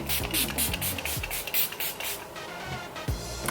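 Milani Make It Last setting spray mists out in a quick series of short, close hissing sprays with a rattle and clicks around them, then a final spritz near the end.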